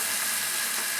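Vegetables sweating gently in a pan without browning give off a soft, even sizzle that holds steady and close, with no voices.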